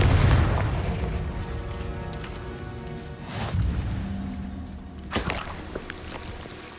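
A Confringo blasting spell explodes in Hogwarts Legacy, a loud low boom at the start that rumbles away, followed by a further burst around five seconds in, with no talking.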